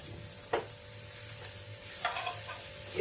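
Bitter gourd frying in a little oil in a pan while being stirred, a soft continuous sizzle with a few scraping stirs, close and without talk.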